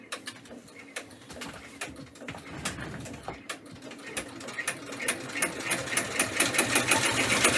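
An embroidery machine runs a back stitch on its final color, a steady rapid mechanical chatter that grows gradually louder, with faint bird cooing in the background.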